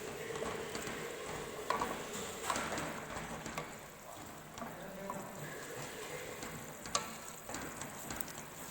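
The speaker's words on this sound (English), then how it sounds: "We will stir it continuously until it gets properly cooked" Food cooks with onion paste in a pan for a Kashmiri dish, a moderate continuous sizzle broken by scraping and clinking stir strokes.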